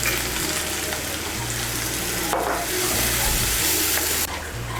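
A spice paste of coriander and chilli powder sizzles in hot oil for soyabean kosha, a dense continuous hiss and crackle that swells partway through.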